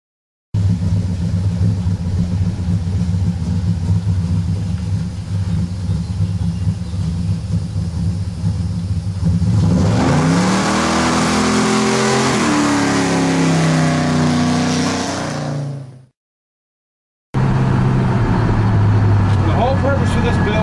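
A 1970 Pontiac LeMans with a 200-4R transmission roars loudly up close as it launches and accelerates, the pitch climbing through gear changes before a brief drop to silence.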